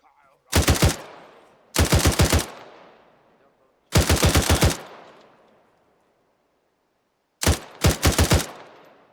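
Weapon fire in the Arma 3 video game, four loud bursts of rapid automatic shots, each with several quick rounds and a fading echo, spaced by short pauses.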